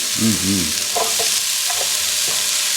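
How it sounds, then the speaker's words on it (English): Steady, bright sizzling of vegetables frying in a pan, close and constant, with a few soft clinks and low tones beneath. "Hear that sizzle?"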